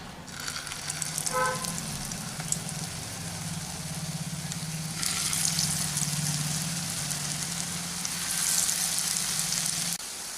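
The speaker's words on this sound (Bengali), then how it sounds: "এখন আঁচটাকে একটু কমিয়ে নিয়ে আমি বড়াগুলোকে ভাজার জন্য দিয়ে দিচ্ছি" Poppy seed fritters fry in hot refined oil over lowered heat, making a steady, fairly quiet bubbling hiss that swells briefly at times, with a faint low hum beneath and no speech.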